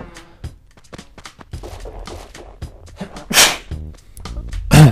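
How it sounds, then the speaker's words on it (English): A person sneezes sharply near the microphone, a sudden loud burst standing out amid quieter clicks and small bumps; another abrupt noise follows toward the end. "Sorry, I had to sneeze."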